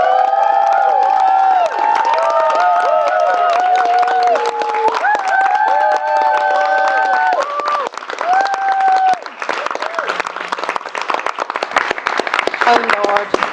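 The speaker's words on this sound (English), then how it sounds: "I want to hear a huge round of applause and lots of cheering as we welcome into the room your bride and groom" Wedding guests clapping, cheering and whooping loudly as the bride and groom enter the room, a sustained roar of applause with shouts and whistles, thinning toward the end.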